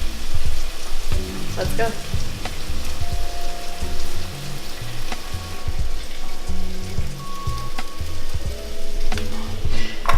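Mushrooms frying on high heat in a pan, a dense crackling sizzle that runs continuously with occasional utensil knocks, and a brief spoken voice over it.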